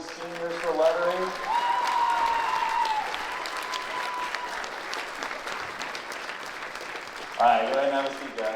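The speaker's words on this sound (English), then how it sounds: "let's give another round of applause for all of these seniors" A high school concert audience claps steadily throughout, with a voice speaking over the applause at the start and again near the end.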